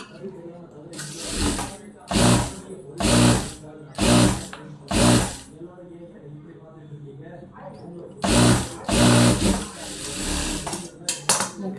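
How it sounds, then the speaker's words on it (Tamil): Sewing machine running stitches around a cotton blouse piece in a series of short, fast bursts with pauses between them, close and fairly loud, with a voice talking in between. "அடுத்து சுற்றி தையல் போட்டுக்கோங்க"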